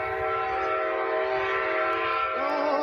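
A train on a railroad line sounds a loud, sustained horn blast that holds steady for several seconds, with a slight pitch shift near the end and a rumbling rail noise beneath.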